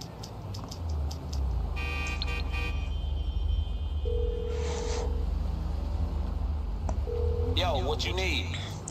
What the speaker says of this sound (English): you want to go ahead and call Franklin